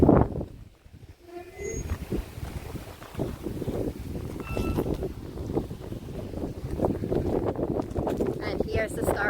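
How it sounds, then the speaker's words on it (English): Strong wind buffets the microphone on the Loudoun Hill walk in Scotland as a steady, gusting rumble, close and continuous throughout. "So it's really quite a windy walk today."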